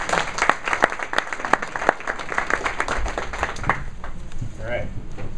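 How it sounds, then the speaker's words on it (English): Audience applause for event sponsors at a real estate company gathering, a burst of many hands clapping that rings out for about four seconds and then fades into room murmur. "For sure, another round of applause for them."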